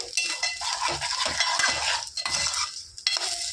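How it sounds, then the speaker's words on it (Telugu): Fish eggs fry in a pan with a steady, close sizzling hiss, broken by repeated scrapes and clinks of a utensil stirring them, with no talking. "దీన్ని చక్కగా ఫ్రై చేసుకుందాం"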